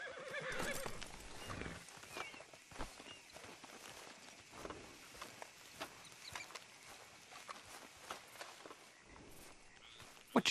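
Horses in the Red Dead Redemption 2 video game whinny loudly at the start, followed by scattered hoof clops and shuffling footsteps over a busy ambient bed for about ten seconds.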